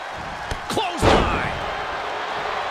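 Wrestling clothesline slam lands with a sharp thud on the ring mat at a Survivor Series event, followed by a loud crowd roar, with commentators talking over it.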